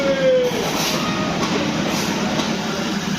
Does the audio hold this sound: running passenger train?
yes